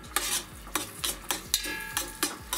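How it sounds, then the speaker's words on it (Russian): Mushrooms frying with butter in a pan, a spoon stirring in steady rhythmic scrapes about twice a second over a quiet sizzle. "Ну вот мы частично обжарили грибочки"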